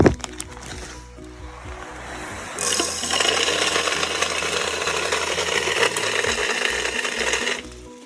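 A grain mill cracks malt and torrefied wheat for an IPA, a loud close grinding rush that starts around the three-second mark and runs steadily until just before the end, with clatter in the quieter lead-in.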